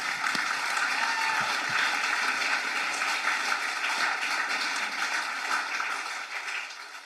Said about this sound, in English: one more round of applause for the state champs.